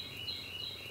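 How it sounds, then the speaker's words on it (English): Faint high bird chirps repeat over a steady outdoor background hum beside calm water, quiet and somewhat distant. "you hear the birds chirping"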